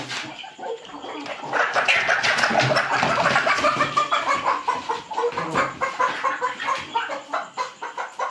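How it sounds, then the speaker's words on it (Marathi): Desi village hens clucking up close, a busy run of short overlapping clucks and calls that continues steadily without pause and with no talk over it. "मित्रांनो गावठी कोंबडी आहे बघा"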